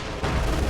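A Panzer IV tank fires its main gun in the Company of Heroes 2 video game, a dense, loud boom that swells after a brief dip and rumbles on as battlefield noise.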